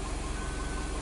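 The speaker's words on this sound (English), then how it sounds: "Bad ECU causing a rough idle." A car engine idles roughly with an injector circuit fault and misfire blamed on a bad ECU, giving a steady low throbbing drone with an uneven pulsing rhythm, close and loud, with no voices.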